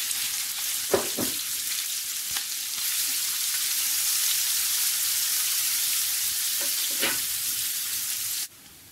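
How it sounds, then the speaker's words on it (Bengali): Chopped onion and garlic fry in oil in a pan, giving a steady close sizzle with a few spoon scrapes early and late, then stopping abruptly near the end. "পেঁয়াজ রসুন ভাজা হয়ে গিয়েছে।"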